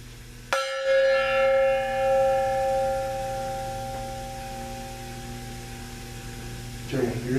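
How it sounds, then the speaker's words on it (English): Gong struck once at a black mass rehearsal, a sharp loud hit whose shimmering tone rings and slowly decays for several seconds before a soft rustle near the end. "So when he holds the chalice up, you strike the gong again."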